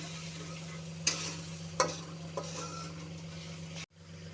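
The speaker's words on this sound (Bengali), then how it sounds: "আমি আবার কষিয়ে নেব একটু জল দিয়ে" Spice paste sizzles quietly in a pan with a little water, a soft frying hiss broken by a few clear clinks and scrapes of a spoon against the pan, over a steady low hum, ending abruptly.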